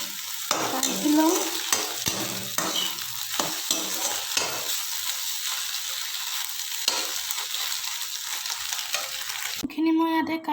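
Scrambled egg bhujia sizzles and fries in a pan while a utensil stirs and scrapes through it, steady close frying hiss with repeated stirring knocks and no voices.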